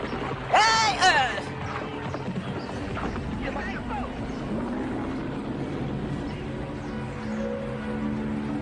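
A motorboat engine drones steadily in a dubbed action movie, a constant low rumble under tense shouted dialogue.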